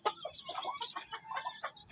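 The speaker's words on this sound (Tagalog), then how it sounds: "Ito, umilaok siya." A Belgian Shamo x Shamo Aseel cross rooster gives a short, close, raspy crowing call, broken into several pulsing syllables over less than two seconds.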